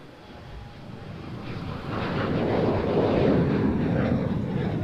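A four-year-old China Cargo Boeing 777F freighter departs Amsterdam Schiphol for Shanghai, its jet engine rumble swelling from a moderate hum into a louder broad roar under gusty wind.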